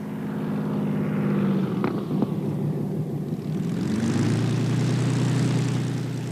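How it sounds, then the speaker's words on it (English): A Spitfire's piston engine runs up at Land's End Airfield in Cornwall, a loud steady propeller drone that dips briefly and then swells to a heavier, fuller roar. "another Spitfire prepares for takeoff, a sight and a sound which grows rarer as the years go by"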